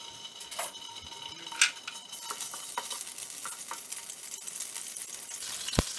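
Garlic paste frying in a hot pan for vegetable hakka noodles gives a quiet, steady sizzle, with spatula scrapes and a few sharp clicks and taps near the start and end.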